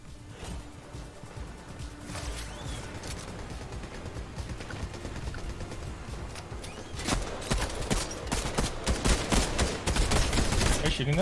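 Dense video-game gunfire crackles in rapid bursts and volleys, growing louder and more intense toward the end, with players talking over the action.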